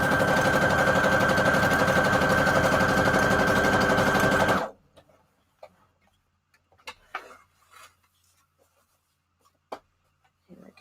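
A sewing machine stitching a straight line on scrap fabric runs loudly and steadily for several seconds, then stops abruptly, leaving faint scattered clicks and handling noises.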